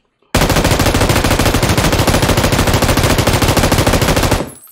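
Loud, rapid automatic fire from an M249 light machine gun in PUBG on PC, one unbroken burst lasting about four seconds, each shot hammering in a tight rhythm before it abruptly stops.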